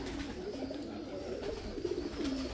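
A chapda pigeon coos in a loft, low rolling calls repeating close by over a steady murmur of other birds.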